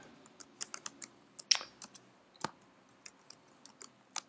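Typing text on a computer keyboard while designing in Illustrator: sparse, sharp individual key clicks at an irregular pace, close and clear with no talking.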